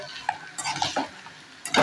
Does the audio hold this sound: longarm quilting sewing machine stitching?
no